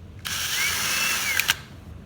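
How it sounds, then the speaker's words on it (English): A drill whirs steadily for just over a second while backing out the small screws on a Honda CRF230F oil filter basket cover, with a couple of sharp clicks near the end as the bit slips or catches. "we're just going to take a drill or any type of screwdriver you really want to"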